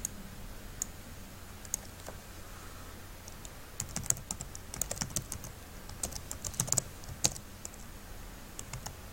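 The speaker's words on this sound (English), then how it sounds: "I'm gonna hit Control M, select the format, the folder," Computer keyboard keys pressed during work in photo animation software, a quiet scattering of sharp clicks, sparse at first and then quicker clustered taps, close and faint.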